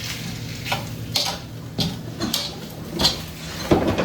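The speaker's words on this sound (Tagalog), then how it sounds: "the reason why you have to do the stir frying using wok" Food stir-fried in an American wok, with a continuous sizzle and repeated scraping, clattering strokes of the utensil against the pan at an irregular rhythm, close by.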